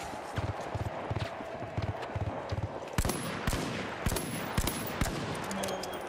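Revolver fire in the shooter game The Finals: several sharp, loud shots spaced about a second apart in the second half, following a run of rhythmic thudding footsteps, with no talking.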